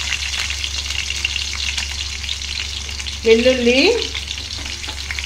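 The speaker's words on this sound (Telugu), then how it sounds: "ఆయిల్ వేడయ్యాక మనం ముందుగా కట్ చేసి పెట్టుకున్న ఉల్లిపాయ ముక్కలు వేసుకుందాము" Steady sizzle of onion pieces frying in hot oil for village-style tomato dal made with red lentils, continuous and close, with a brief spoken word partway through.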